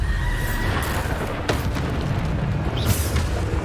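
A Bombarda spell goes off in Hogwarts Legacy, a dull booming burst over a rumbling, noisy game soundscape with a couple of sharper transient hits.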